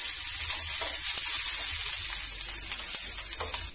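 Green chillies frying in a pan for buttermilk sambar, a close, steady sizzle with crackling pops that continues without a break and stops abruptly at the end.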